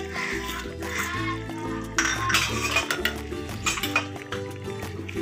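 Onion and coconut paste being stirred into mutton korma in a cooking pot, with busy metallic clinks and scrapes of a spoon against the pot, close and fairly loud, in uneven bursts.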